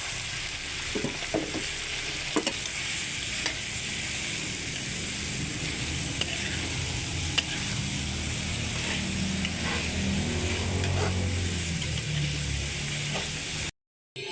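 Green beans and tofu stir-fry in a hot pan with loud, continuous sizzling, while a spatula clicks and scrapes against the pan now and then.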